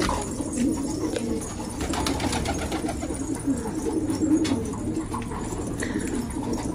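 Pigeons coo repeatedly in a coop, soft throaty low calls overlapping in an irregular rhythm at close range, with faint rustling and light background noise.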